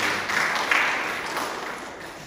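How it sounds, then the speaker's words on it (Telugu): A church congregation claps together in a sustained, dense wash of applause that swells briefly and then slowly tapers off. "చప్పట్లు కొడదాం ఒకసారి."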